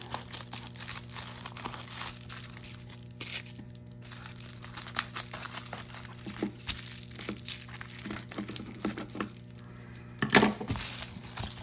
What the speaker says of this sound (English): and then just use a pair of scissors to trim those corners off